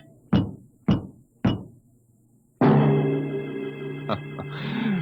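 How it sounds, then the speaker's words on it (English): Three sharp, evenly spaced knocks on a door ring out alone in a 1950s science-fiction radio drama, followed by a sustained swell of dramatic orchestral music with a couple of accented hits. "There was a knock on the door."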